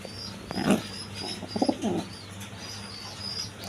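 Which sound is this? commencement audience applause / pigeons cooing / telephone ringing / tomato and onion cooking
pigeons cooing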